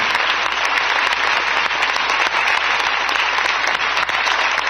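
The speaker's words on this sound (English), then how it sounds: "Let's give me applause." Sustained audience applause fills the hall at a political speech, dense steady clapping at full volume for the whole stretch with no voices over it.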